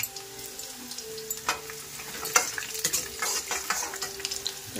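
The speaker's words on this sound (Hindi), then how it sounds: "तो यहाँ मैंने गार्लिक डाल दिया है" Garlic frying in a pan during home cooking, a steady close sizzle with stirring scrapes and clinks breaking through at irregular moments.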